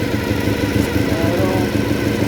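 A Japanese 400cc motorcycle engine idles close by with a loud, busy, even mechanical burble and a steady pulsing low throb, running continuously without any pause or talking.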